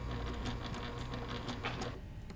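Sewing machine running a short back stitch while binding a quilted table topper, a fast rapid ticking needle chatter with steady motor hum, close and continuous.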